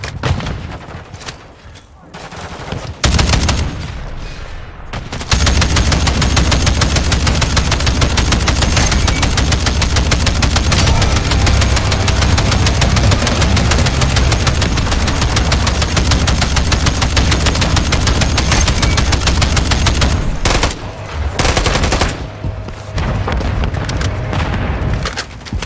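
A tank and heavy gunfire in Modern Warfare 3: sustained machine-gun bursts and booming cannon blasts roar close and loud for about fifteen seconds, with brief quieter gaps before and after, and a player talking at times.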